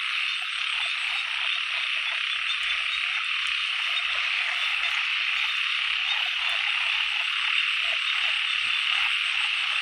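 A dense chorus of frogs croaks nonstop at night in water among dried lotus plants during frog catching. The calling is loud, steady and overlapping throughout, with no voices.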